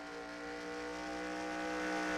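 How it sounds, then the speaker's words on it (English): Race cars in NASCAR Racing 2003 roaring past at speed, a steady high engine drone building slightly louder over a couple of seconds, with no voices. "Yeah, cars are just flying past him."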